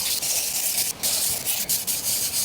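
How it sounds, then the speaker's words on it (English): Wood for a beginner slingshot rifle is hand sanded with 80 grit sandpaper on a flat surface, a loud, close, continuous coarse rasping with brief pauses between strokes, no voices. "I'm gonna sand this down real quick and then we'll work on the other side. I just got some 80 grit and a flat surface."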